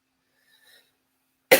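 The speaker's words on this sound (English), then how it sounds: "Sorry if you hear me coughing." A single sharp cough close to the microphone at the very end, after near silence broken only by a faint brief murmur.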